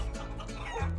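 Chickens cluck in the video game Guacamelee, a short close run of rapid clucks over steady game sound.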